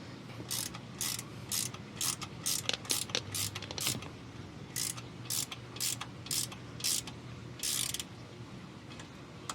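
A ratchet cranks a differential breather fitting back into a third-generation Toyota Tacoma during an ARB breather kit install, producing repeated close clicking bursts in an uneven rhythm over a faint steady hum.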